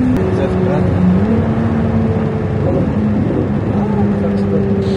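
A Ferrari 296 GTB with 830 horsepower drives under part throttle, its engine a loud, close, humming drone heard from inside, with the pitch stepping and shifting a few times as it pulls.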